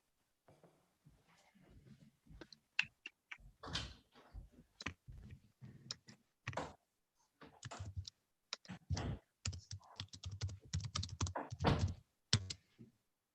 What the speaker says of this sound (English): The way I could hear you typing